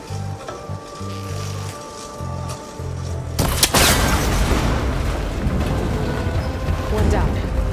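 A shot breaks a cable connector in Horizon Forbidden West: a sudden loud burst partway through, then a dense crackling, rumbling wash of debris and mechanical noise that stays loud to the end, over a quieter, humming game soundscape.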